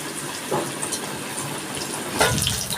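Battered chicken beguni dropped into hot oil, setting off a loud continuous hiss and sizzle with bursts of bubbling as pieces hit the oil.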